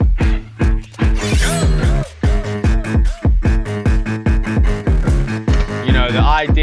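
UK grime instrumental for a track, loud and punchy with rapid rhythmic bass and synth stabs in a choppy repeating pattern, played back alone.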